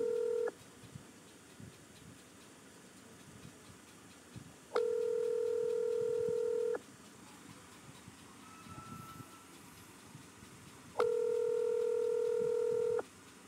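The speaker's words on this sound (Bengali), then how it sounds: "রিং হচ্ছে।" A phone call rings out, long steady electronic tones repeating in even bursts about every six seconds with quiet pauses between, clear and close with no talking.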